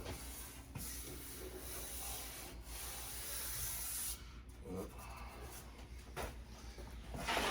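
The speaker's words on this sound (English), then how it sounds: "More spray can primer, my favorite." Primer sprayed from a spray can onto a 1967 Ford Mustang body, a steady broadband hiss that runs for several seconds with short breaks and changes in pressure, close to the microphone.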